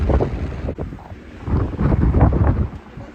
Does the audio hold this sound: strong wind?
yes